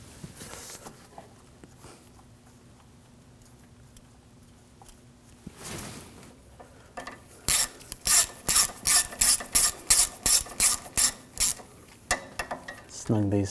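Ratchet tightening 10mm bolts on the water pump of a 2007–2013 BMW 328i 3.0L inline-six, a quiet stretch of faint handling before a close, loud run of about a dozen rapid rhythmic clicking bursts.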